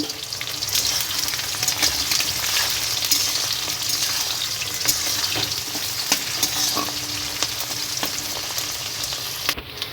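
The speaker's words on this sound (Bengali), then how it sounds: "পেঁয়াজগুলো আগে লাল লাল করে ভেজে নেব" Onions sizzle steadily in hot oil with cumin, bay leaf and dried chillies for a village-style meal, a dense continuous crackle with occasional sharper pops, fairly loud and close, with no voices.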